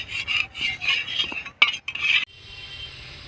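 A metal spatula stirs an egg on a hot griddle, giving a run of scraping and clinking strokes for about two seconds before fading into a quiet background hum.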